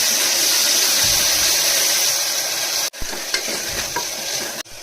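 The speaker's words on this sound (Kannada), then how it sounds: "ಸ್ವಲ್ಪ ಫ್ರೈ ಆಗಬೇಕು." Green chili paste frying and being stirred in a pan while cooking drumstick sambar, a steady close sizzle with scraping stirs throughout and a couple of sharp clanks of the spoon against the pan.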